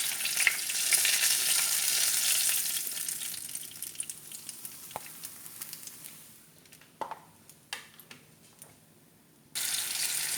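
Fish pieces frying in a pan, a steady hiss and sizzle that fades after a few seconds, followed by quieter clinks and taps before the sizzle returns loudly at the end.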